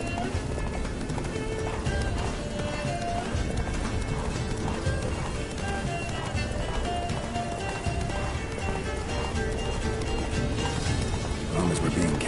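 Roach, the horse in The Witcher 3, gallops in a steady, rapid clip-clop rhythm that continues throughout, loud and close, with background game sound mixed in.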